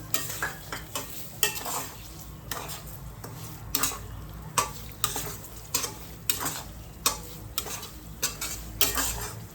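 Semolina and thinly sliced banana roasting in a pan for prasad sheera, with steady rhythmic scraping strokes of a spoon and a soft sizzle throughout, close and fairly loud, no voices.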